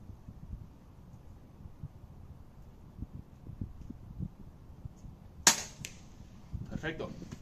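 A single sharp shot from a Weihrauch HW100 air rifle cracks out amid gusty frontal wind noise at a 50-metre range, followed by faint rustling and handling sounds.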